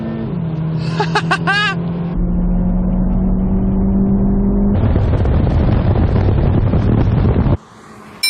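VW T-Roc R four-wheel-drive car launching and accelerating hard on a race track: a steady engine drone with brief rising whines early on, then a loud, continuous rush of wind buffeting that cuts off abruptly near the end.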